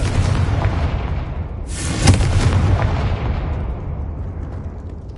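Confringo fire spell blast in the PS5 game Hogwarts Legacy, a deep booming burst that rises sharply midway and then rumbles and decays, set against continuous low game background noise.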